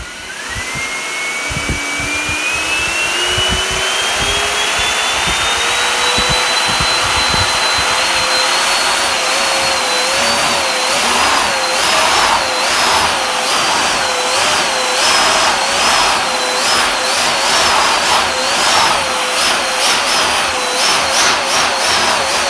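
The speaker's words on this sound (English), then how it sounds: "I'm trying to throttle up the EDF" Electric ducted fan on a J5 RC jet car spooling up indoors, a loud rising whine that climbs steadily, then wavers up and down as the throttle is blipped, close and continuous throughout.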